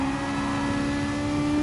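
A racing car engine in a racing video game holds a steady, loud, sustained tone throughout, with no talking.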